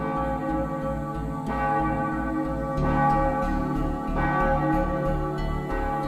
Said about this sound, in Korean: 여명을 깨우는 맑은 종소리가 매일 새벽마다 울려 퍼지는 곳